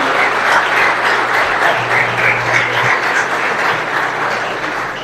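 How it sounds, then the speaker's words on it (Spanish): An audience applauds steadily for several seconds, a dense wash of clapping that fades slightly toward the end. "démosle un aplauso en el cielo"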